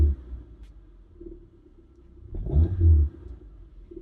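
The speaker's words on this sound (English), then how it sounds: "So you hear, even as I rev that car, it's still pretty quiet" A quiet 1990s Rover 216 car engine starting and revving briefly, a low rumble with a short swell in the middle, heard close by.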